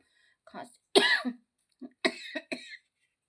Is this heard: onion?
no